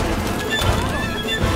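Horses whinnying in the video game It Takes Two, a loud, close neigh rising and falling over a noisy game background, with muffled clopping beneath.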